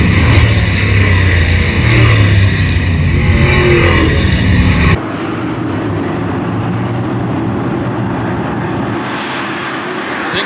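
Race cars at Attica Raceway Park dirt track roaring past side by side, a loud dense engine drone that drops sharply to a more distant, steady roar midway, with no talk.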